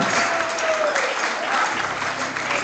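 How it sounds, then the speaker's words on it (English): Steady crowd applause at a powerlifting championship fills the space, a dense wash of clapping that holds at an even level throughout without letting up. "we would like to one more round of applause for all the athletes"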